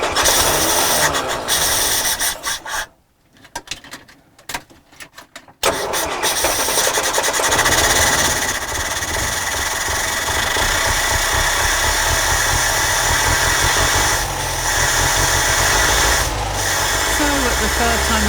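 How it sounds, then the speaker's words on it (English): A 1950s Morris ambulance van engine cranks, coughs and stalls, then sputters back to life and settles into a rough, loud, steady idle close by. "The third time of asking, the Morris splatters back into life."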